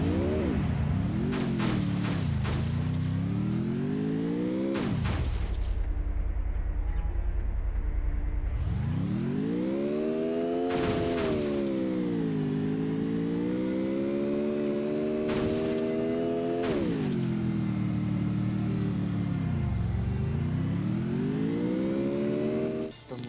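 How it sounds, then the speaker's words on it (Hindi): A jeep engine in a video game drones continuously, its pitch rising and falling as it revs up and eases off, with occasional sharp clicks and bursts over the top. "पर हल्की सी गाड़ी की साउंड आ रही थी, जीप की साउंड आ रही थी"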